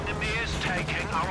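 Tank cannon fire from a Panzer IV and other units in Company of Heroes 2 rumbles in a dense battle mix of booms and crackle, partly buried under a commentator's steady talking.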